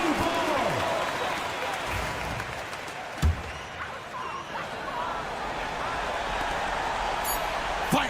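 Home crowd applause in a Euroleague basketball video game, a steady broad roar of clapping and cheering throughout with a commentator talking over it.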